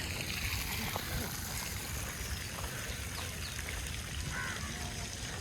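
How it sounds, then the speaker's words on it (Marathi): Continuous rushing and trickling of overflowing water at Humayun's Tomb in New Delhi flows steadily throughout, a broad even wash of sound with faint splashes and no talking. "मध्ये आलेलं पाणी ओव्हरफ्लो होऊन सर्व बाजूने चाललेलं आहे"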